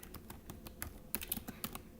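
Rapid close-up typing on a school Chromebook keyboard, a steady run of light plastic key clicks with a few heavier taps, quiet and with no voices.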